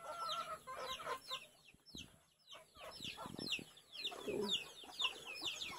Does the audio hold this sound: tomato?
no